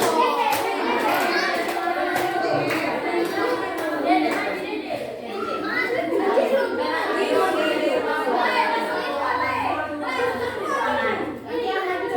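Schoolchildren at a junior high in Kupang clap together in a counted clapping game, crisp bursts of hand claps in short groups following a spoken count, with a voice calling out and kids chattering between rounds.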